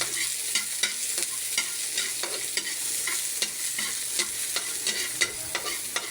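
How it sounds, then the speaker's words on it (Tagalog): Garlic and onion fry in a hot pan, a steady bright sizzle with frequent small clicks of stirring, close and continuous with no talking. "Hintayin lang natin mag brown yung bawang at saka sibuyas bombay"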